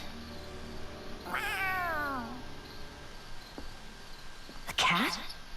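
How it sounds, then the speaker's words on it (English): A cat in the video game Tales of Arise gives a clear, drawn-out meow up close, then a second shorter, sharper meow a few seconds later over a quiet background. "A cat? Where'd it come from?"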